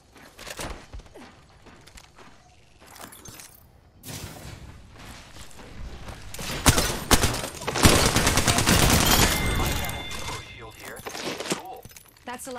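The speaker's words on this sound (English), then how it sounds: "Taking shots. Opening fire." Shooter video game gunfire, rapid bursts of sharp shots that start sparse and swell into loud sustained automatic fire with clattering impacts, while a player talks over it.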